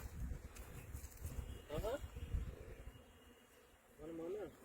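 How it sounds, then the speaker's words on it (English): Honeybees working four-year-old cherry blossoms in an orchard, a faint soft insect buzz drifting in and out with a few bird chirps, quiet outdoor ambience and a voice talking over it. "Honeybees are at work"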